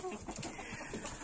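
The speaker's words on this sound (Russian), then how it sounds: "Курочки ходят еще свободные" Free-roaming hens of several breeds, Pushkin, Adler, Silver and Bielefelder, cluck softly around a chicken coop, a steady low murmur of scattered short calls with no voices.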